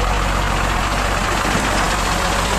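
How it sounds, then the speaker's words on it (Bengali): A bus engine runs loud and steady at close range as the bus pulls away, a continuous low rumble with no voices over it. "এই গাড়ি স্টার্ট করে বেরোচ্ছে"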